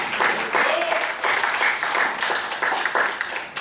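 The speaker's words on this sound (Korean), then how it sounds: "이럴 때 박수 한번 해주지 않습니까?" A crowd at a public debate on reviving the Korean economy applauds a speaker, giving a broad, dense wash of clapping that swells in uneven waves for a few seconds without any speech.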